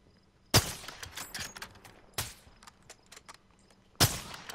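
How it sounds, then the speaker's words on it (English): Sharp gunshots ring out in a nighttime Modern Warfare 2 game battle: three loud cracks spaced a couple of seconds apart, with a few fainter shots and clatter between them. "What was that shot?"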